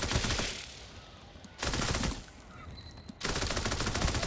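Bursts of automatic gunfire from a Mythic Jaeger 5.56 rifle in a video game come in three loud rapid strings separated by short pauses, with no talking.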